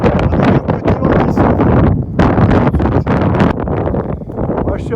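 Light wind blowing across the top of the Dune du Pilat, a steady loud rush of gusts buffeting the microphone with a brief lull midway.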